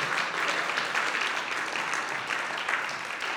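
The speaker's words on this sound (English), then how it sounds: "Big round of applause for all of these artists, or people who work with artists, community leaders." Audience at a red carpet gala applauding nominees, a dense steady wash of clapping from many hands, sustained and even.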